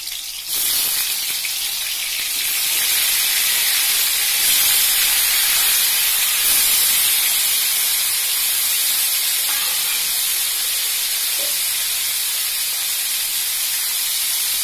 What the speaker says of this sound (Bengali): কড়াইয়ে তেল দিলাম, দিয়ে আমি মাছের মুড়োটা ভেজে নেব